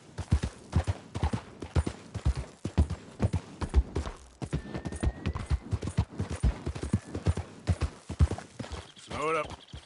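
In the video game Red Dead Redemption 2, a horse gallops in a steady, close clip-clop of hooves, with voices talking over it and a brief whinny near the end.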